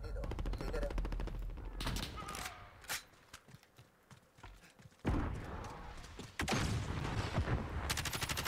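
Rapid bursts of Call of Duty: Modern Warfare gunfire, loud and close, with automatic fire rattling in stretches and brief pauses between volleys.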